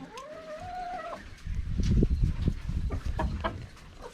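Chickens in a fowl house housing meat birds, with a sustained crowing-like call first, then a busy burst of low clucking and scratching movement close by.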